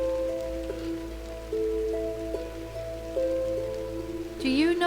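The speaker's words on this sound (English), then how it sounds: "It's more of like a light shower." A light rain shower falls in the game Drizzlepath: Genie, a soft, steady hiss running beneath sparse, sustained musical tones that rise into a brief flourish at the end.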